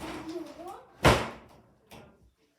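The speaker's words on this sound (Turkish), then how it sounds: "Kapıyı kapamak zorunda kaldım." A door is shut with a single sharp thud near the middle, preceded by someone talking in Turkish indoors and followed by a softer knock, in a quiet room.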